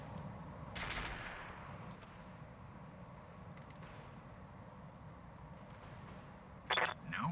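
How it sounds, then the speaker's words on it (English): Mech weapons fire in the video game RogueTech, with a sharp burst near the start and another short, loud volley near the end over a low rumbling background. "Gun Hildy will try to shoot the mites"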